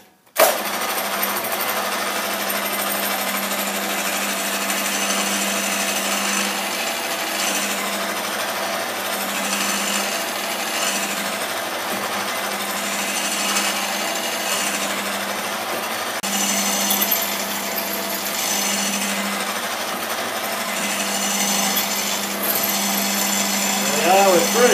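A machine shop drill press runs steadily and loudly while holes are peck drilled under light feed pressure, a dense continuous grinding and whine that lasts throughout.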